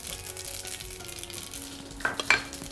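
Mustard and cumin seeds sizzling in hot desi ghee in a kadhai, a soft steady crackle close by, ending with a few bright metallic spoon clinks against the pan.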